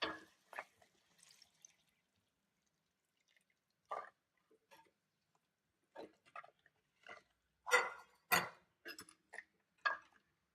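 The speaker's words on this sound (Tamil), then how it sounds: "இந்த புளி ஊற்றிடணும்." Tamarind soaked and dissolved in water is poured into a Kerala-style fish curry, giving scattered, intermittent liquid splashes and drips separated by quiet gaps, with no talking.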